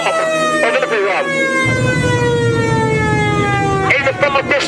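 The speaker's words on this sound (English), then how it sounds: "The sound of the siren will go on for quite some time while the air raid is in progress" An air raid siren wails loudly and steadily at a wartime reenactment, with harsh bursts of engine or gunfire noise at the start and end.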